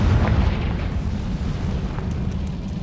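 Confringo fire spell blasting in Hogwarts Legacy, a loud rumbling low boom that rolls on steadily for a few seconds with crackling debris, no voices.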